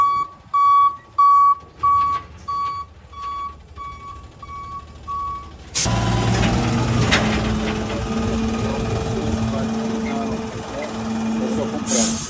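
A 1987 BMW E30 M3 fires up after a run of short, regular beeps, then settles into a loud, steady running engine as it is driven into a shop, with voices talking nearby.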